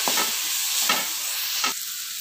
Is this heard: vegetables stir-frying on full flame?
yes